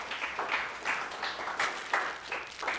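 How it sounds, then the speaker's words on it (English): Applause at a state training session on ankle and plyometric exercises, a small group clapping in bursts of uneven claps at moderate distance, steady for a few seconds. "Round of applause"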